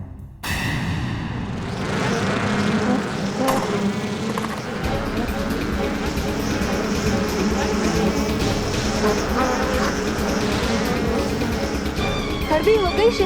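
A swarm of honey bees buzzes in a cartoon, a continuous droning hum layered under music and a singing voice throughout, fairly loud and busy from start to finish.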